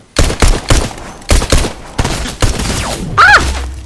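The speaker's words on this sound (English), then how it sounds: "gunshots" Gunfire in Fortnite, several loud close bursts of rapid shots with short gaps between them, ending with a rising whistling tone over a low rumble.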